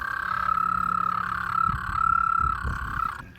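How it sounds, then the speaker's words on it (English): A puffed-up toad by a river trills a steady, continuous high croaking call, loud and close, running without a break over faint outdoor background noise. "a little toad here playing us a tune"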